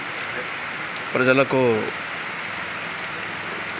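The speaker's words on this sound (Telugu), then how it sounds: "ఈరోజు మడగసిరాలో సాయంకాలం 4:30 నుంచి 5:15 వరకు మంచి వర్షం పడిందండి" Steady evening rain falls in Madakasira, a constant soft hiss of drops at moderate level, briefly interrupted by a short spoken word.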